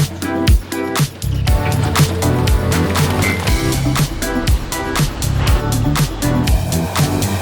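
Loud, continuous heavy machinery with grinding, clanking scrapes and engine roar: a Bobcat skid steer loader with a hoe attachment digging out rock up close at a Costa Rica building site.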